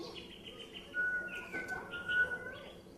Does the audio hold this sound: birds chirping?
yes